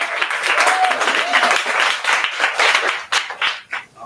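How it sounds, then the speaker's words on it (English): A conference audience gives a round of applause, loud and sustained clapping for about three seconds before thinning into a few scattered claps, with some voices mixed in. "please give Danny a round of applause as well."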